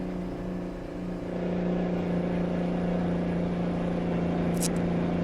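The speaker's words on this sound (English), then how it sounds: "2-stroke Detroit diesel." A steady, droning two-stroke Detroit diesel truck engine of 335 horsepower idles and rumbles continuously with a low, even hum, close and unchanging throughout, in a trucking video game.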